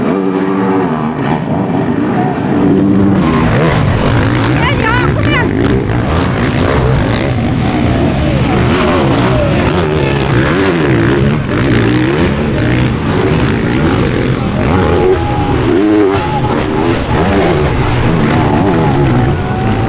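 Motocross motorcycles rev and roar at an MXGP race in Spain on a rain-soaked, muddy track, engines rising and falling continuously as bikes race past, loud and sustained for the whole stretch.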